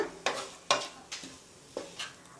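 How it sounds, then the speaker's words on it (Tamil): Mashed boiled potatoes being stirred into masala in a pan for semiya paneer balls, giving about half a dozen soft scraping, squishing strokes at an uneven pace, close by with no talk. "உருளைக்கிழங்கு சேர்த்து நல்லா மிக்ஸ் பண்ணி விட்டுருங்க"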